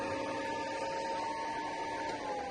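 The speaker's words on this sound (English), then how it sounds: "Fans sound like they're just screaming out there." A steady, loud mechanical roar with a constant whine of truck engine cooling fans running hard on a Cummins-swapped Sweptline pickup, unbroken throughout.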